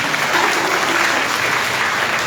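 An audience at a children's event claps loudly and steadily, with the applause sustained at an even level across the whole stretch.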